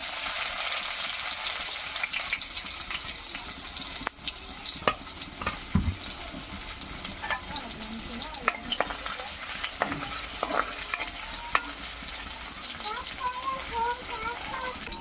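Spices and paste fry in hot oil in a wok for a fish curry, giving a steady loud sizzle throughout with occasional stirring scrapes and clinks on top.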